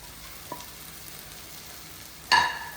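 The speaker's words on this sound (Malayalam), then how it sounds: "ചെയ്ത് വെച്ച മീൻ ഇതിലേക്ക് ഇട്ട് കൊടുക്കാം." Small fish such as anchovies frying in a pan with ground pepper, a faint steady hiss of hot oil, then a sudden louder sizzling flare near the end as more goes in, no talking.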